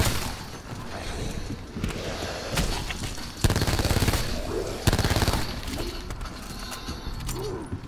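Rapid gunfire from Black Ops 4 Zombies plays in bursts over steady game noise, with several louder volleys standing out near the middle.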